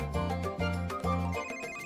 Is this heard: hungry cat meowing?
no